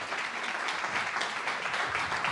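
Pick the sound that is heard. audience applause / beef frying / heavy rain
audience applause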